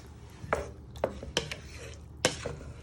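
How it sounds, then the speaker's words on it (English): Tinned tomatoes being stirred into ratatouille in a pot, with a few distinct spoon scrapes and knocks at irregular intervals over a low steady background, close by. "So you're just stirring all that in"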